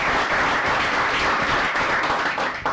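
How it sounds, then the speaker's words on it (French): Studio audience applauding loudly at the start of a French television show, dense steady clapping throughout with a brief dip near the end. "Je voudrais entendre tout le monde applaudir très fort encore dans les mains."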